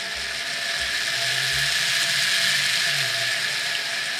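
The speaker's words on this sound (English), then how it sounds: "it has got those ribbed wheels, which accounts for that rather growly sound there on the rolling road" The small electric motor of a Tri-ang model electric train with ribbed wheels runs on a rolling road, whirring steadily with a rough, growly mechanical buzz and a few low thumps near the start, continuous and close.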